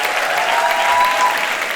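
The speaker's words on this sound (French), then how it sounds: "On peut applaudir Valentine Mabi, ma productrice, et Lorenzo S" Loud, dense applause from a live stage-show audience fills the space, a steady wash of clapping with a faint tonal whistle in the middle.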